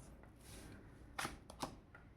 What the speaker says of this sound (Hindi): चलिए निकालते हैं कार्ड्स।